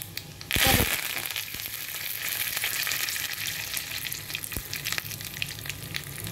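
Curry leaves and fennel seeds drop into hot oil with a sharp burst of spattering, then settle into a steady, close, crackling sizzle with small pops throughout, no voices present.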